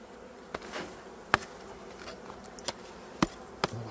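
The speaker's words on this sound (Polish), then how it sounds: "Jak widać, tu pszczół jest dość sporo." A steady low hum of many honeybees in an opened hive fills the background, faint and close, broken by several sharp wooden knocks and clicks of hive frames.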